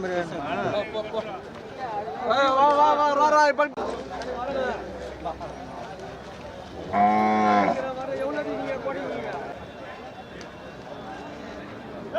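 Cattle at a bustling cattle market in Chettithangal: several drawn-out moos rise over steady crowd chatter and nearby talking, with a loud, close bellow midway.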